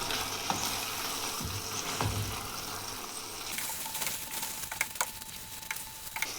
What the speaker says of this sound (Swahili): na koroga.